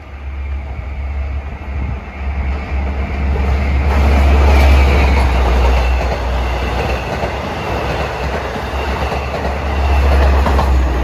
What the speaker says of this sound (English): Approaching on number 2 track is train 2064 at 5:36 en route from Penn Station to